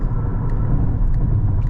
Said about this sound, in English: Everything affects the noise that comes inside the cabin.